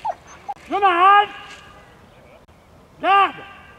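A vigilant guard dog at a French dog-training trial at Beaujoire in 2017 gives two short, harmonic yelping whimpers about two seconds apart, fairly close and loud over quiet background.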